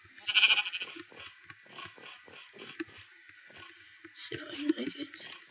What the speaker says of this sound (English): Sheep, where you go?